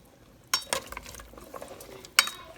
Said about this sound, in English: Okay guys, so we're just going to stir it up now.